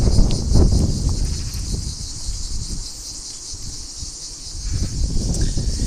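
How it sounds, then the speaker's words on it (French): Cicadas chirping outdoors in Aix-en-Provence in summer, a steady high-pitched buzzing drone that stays constant throughout beneath low rumbling background noise. "Bon, j'avoue, ici on entend encore les cigales."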